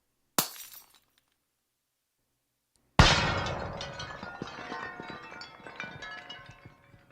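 Slowed-down ultrasonic recording of glass breaking: a brief sharp tick, a pause, then a loud shattering crash that rings out in a long, dense cascade of tinkling fragments slowly fading, with no voices.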